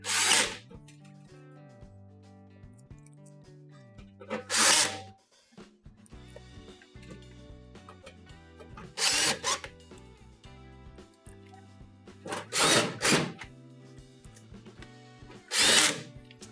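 A power drill backs out screws from a Whirlpool stove during an infinite switch repair, several loud short whirring bursts spaced apart, with quieter clinks and handling of parts in between.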